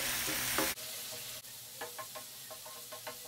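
Tomato with coriander powder, garam masala, chilli powder and salt sautéing and being stirred in a pan for egg gravy, a steady close sizzle broken by several short scraping stirs of a spoon, no voices.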